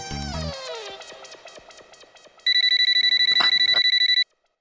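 A telephone-like ringing sounds in rapid repeated bursts, loud and close, following a musical jingle with descending tones.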